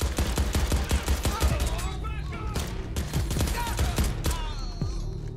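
Rapid gunfire in Crackdown 3 as generators are shot, a dense run of sharp, close shots in quick bursts, with voices talking over the shooting.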